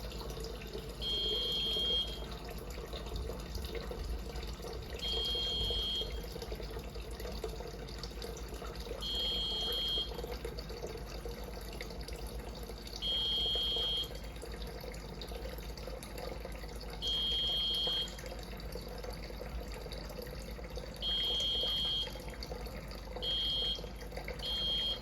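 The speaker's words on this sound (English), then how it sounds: "The warning that you can hear is the buzzer" A flood-level warning buzzer on a water-sensing alarm device beeps in short, shrill bursts repeating every few seconds, fairly faint over a steady background hiss.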